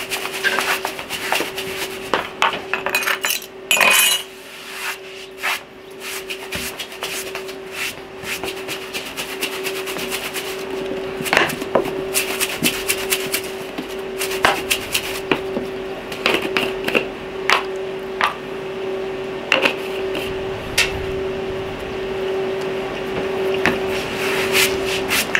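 Dry spice base for a pineapple rib rub being stirred in a bowl: repeated soft scrapes and small taps, irregular and close, over a constant low hum.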